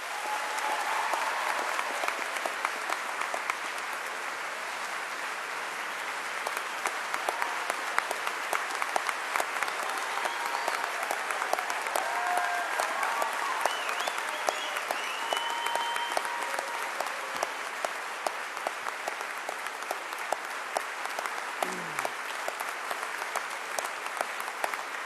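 Sustained audience applause at a 2007 University of Vermont convocation welcoming speaker Ishmael Beah: a large hall full of steady, dense clapping that holds evenly for about twenty-five seconds, with scattered individual claps standing out.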